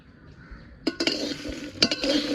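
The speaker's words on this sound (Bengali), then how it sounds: "সবার জন্য ভাজি, আমি একার জন্য না" Kitchen sounds of someone frying jackfruit seeds in a pan at home: quiet background, then sharp clinks and scrapes of a utensil against the pan followed by a rising sizzle, close and fairly loud.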